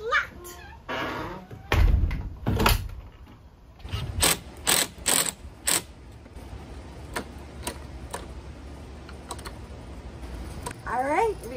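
Rear hatch lock on a converted short school bus being worked, giving a series of sharp metallic clicks and clacks at irregular intervals, with people talking quietly around it.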